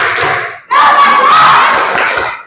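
A class of students in an Indonesian-language lesson performs a spirited group clap-and-chant cheer, loud massed voices shouting in unison with a rhythmic clapping beat, breaking briefly before a longer sustained burst.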